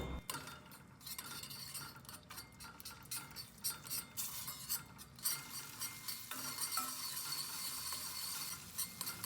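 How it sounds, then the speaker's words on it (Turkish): Tomato paste fries in a small pot with a soft, steady sizzle, broken by frequent scraping and clinking of a utensil stirring against metal. "salçayı kavuruyorum"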